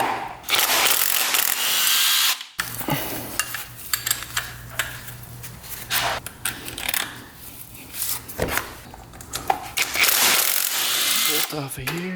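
A hand ratchet clicks in quick bursts as a socket works loose the starter bolt on a 4x4 ATV, with close mechanical clatter, brief pauses and scraping between the bursts.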